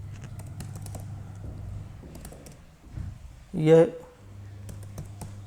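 Keys clicking on a computer keyboard while a name is entered into an online student registration form, a steady patter of light taps under a low hum, with a brief spoken word partway through.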